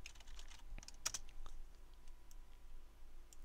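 Quiet, close typing on a computer keyboard, a quick irregular run of light key clicks with a few sharper taps, alone without speech.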